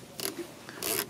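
Ratcheting Phillips screwdriver working a screw on the fog light of a 2006 Nissan Murano, giving two short raspy clicking bursts close to the mic, separated by a brief pause.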